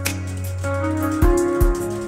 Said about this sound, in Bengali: আজকে বৃষ্টি পড়ছে, আবহাওয়া খারাপ, বৃষ্টি পড়ছে।